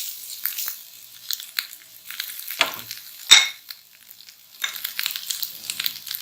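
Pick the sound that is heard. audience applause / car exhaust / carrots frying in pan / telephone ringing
carrots frying in pan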